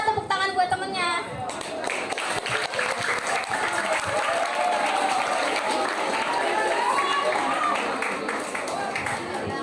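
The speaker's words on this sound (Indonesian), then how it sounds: "tepuk tangan buat temennya" Junior high students at an anti-corruption outreach session at SMPN 41 Semarang clap for a classmate, a loud, sustained burst of applause that opens sharply and holds steady, with voices mixed in.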